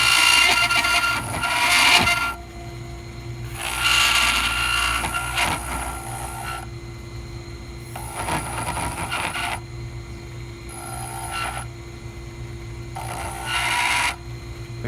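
A dental burr scoring a keyway into a denture reline, heard as repeated bursts of high grinding and rasping a couple of seconds each, separated by short pauses over a low steady motor hum.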